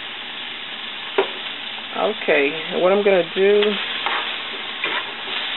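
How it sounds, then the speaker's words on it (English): Onions and bell pepper stir-fry in a pan for turkey chili, a steady close sizzle with stirring running throughout while a person talks over it. "I'm going to finish stir frying this up"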